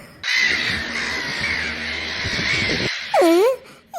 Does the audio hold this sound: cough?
no